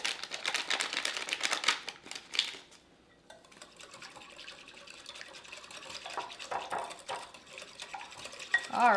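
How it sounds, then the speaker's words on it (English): White chocolate pudding mix is whisked into condensed milk in a bowl for a berry trifle: brisk, rhythmic scraping and clicking for the first few seconds, then softer, intermittent stirring and light clinks. "I'm just gonna take my package of the white chocolate pudding mix and add it and mix it again"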